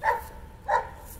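Two separate, fairly loud barks from a German Shepherd at a kennel, spaced about half a second apart, ring out close by against a quiet background.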